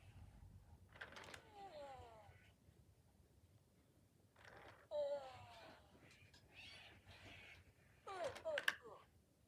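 A FurReal Friends Luv Cubs robotic brown bear toy makes three drawn-out, sweeping electronic yawning sounds with pauses between them, quiet and close with faint mechanical noise.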